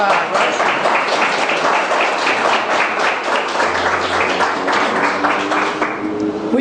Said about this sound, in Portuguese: Então vamos bater palmas a quem propôs.